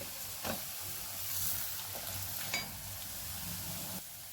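Cumin and black pepper tempering in hot oil for a Rayalaseema-style pepper rasam give a steady close sizzle, with a couple of brief stirring clinks and scrapes over the crackle.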